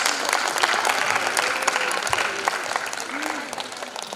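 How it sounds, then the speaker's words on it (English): Audience at a talk show panel on crafting stories for streaming platforms gives a loud round of applause, continuous clapping with scattered voices and cheers mixed in throughout. "Why don't we all welcome them once again with a loud round of applause."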